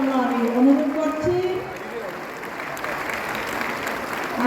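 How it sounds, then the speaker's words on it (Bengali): An audience at a political gathering claps in a steady, crowded wash of applause that follows a brief burst of speech and carries on evenly to the end. "করতালি হাততালি দেওয়ার জন্য আমি অনুরোধ করছি"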